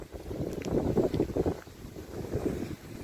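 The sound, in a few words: wind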